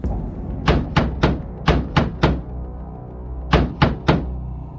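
Loud, close knocks on a door in a horror story: a quick run of six heavy raps, a pause, then three more.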